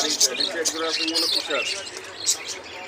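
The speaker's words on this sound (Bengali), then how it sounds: "yellow colour lovebird" Yellow lovebirds at a bird farm in Bangladesh chirp continuously, a busy chorus of close, high tweets and calls filling the whole stretch with many birds overlapping.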